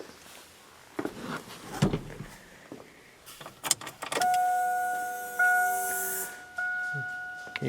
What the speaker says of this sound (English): Get a fuel pump kick on.